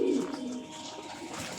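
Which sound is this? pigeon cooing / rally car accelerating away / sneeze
pigeon cooing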